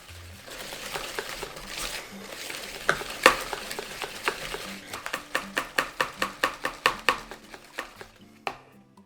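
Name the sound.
mixing savory cake batter in a bowl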